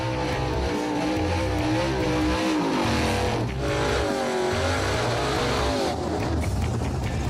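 The Farm Truck and another drag car race side by side down a street strip, engines roaring loud and steady with rising and falling revs through gear changes, no voices over them.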